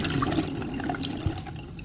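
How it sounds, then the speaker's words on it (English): Brief splash and trickle of water as a freshly sharpened knife is rinsed under running water, close and short with no speech. "After sharpening, rinse the knife with water."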